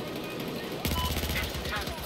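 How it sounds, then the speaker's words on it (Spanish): A burst of rapid gunfire erupts partway through in Battlefield 4, sharp repeated shots over a busy background, fairly close and loud. "oigo tiros"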